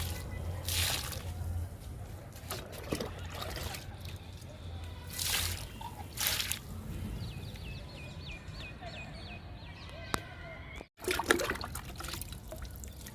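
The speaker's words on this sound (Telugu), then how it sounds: "దానిమ్మ మొక్కలకి లిక్విడ్ ఇచ్చేద్దాము." Liquid fertilizer poured onto pomegranate plants, soft trickling and splashing at close range with intermittent gushes, drips and a few small knocks, fairly quiet overall.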